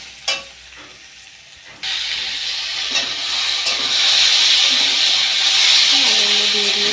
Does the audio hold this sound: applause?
no